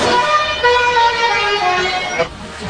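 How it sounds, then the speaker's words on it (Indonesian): A multi-tone telolet horn on an Oplet-type minibus in Jakarta around 1971 blares a steady, loud chord of several sustained tones, with a brief change in pitch near the end. "terdengar jelas suara klakson telolet dari mobil sejenis Oplet"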